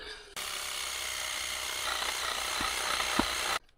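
Power saw cutting slowly while building a garden office foundation, heard as a loud, steady buzzing drone that starts abruptly and stops abruptly after about three seconds, with a couple of faint knocks near the end.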